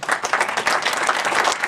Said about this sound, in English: So if we get a round of applause for them.